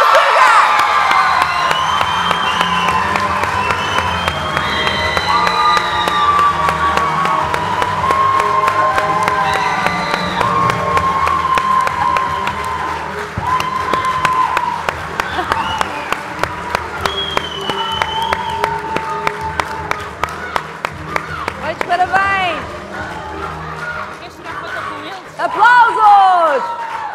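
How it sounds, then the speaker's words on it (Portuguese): An audience at a social entrepreneurship award ceremony in Portugal cheers, whoops and applauds the winner in a loud, sustained burst that eases off slightly, with people talking over it toward the end. "Aplausos!"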